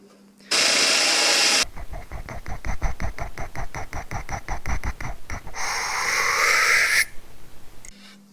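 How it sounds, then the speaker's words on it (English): A power drill bores dowel holes into oak, first a steady whir, then a rapid run of regular clicking pulses, then a rougher grinding cut, loud and close before it cuts off. "when I'm drilling now, I have to take good care to keep the drill bit aligned"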